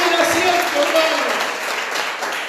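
A church congregation at a Sunday service gives loud, sustained applause, a dense wash of many hands clapping at once with some voices underneath, slowly easing.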